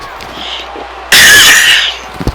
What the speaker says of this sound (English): And there I go, coughing already.